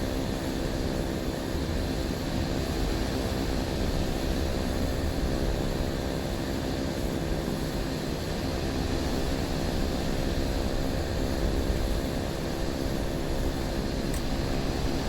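Steady, droning turboprop whine from a Cessna C208 Caravan taxiing on a Caribbean cargo run, a continuous engine roar with a high tonal hum held at constant loudness throughout, close and unbroken with no talk.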